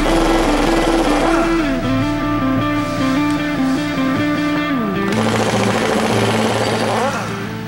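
A hydraulic concrete paving vibrator under repair has hardened concrete chiseled off it, giving a loud, steady mechanical hammering with shifting pitch that drops out briefly midway and then resumes, close up.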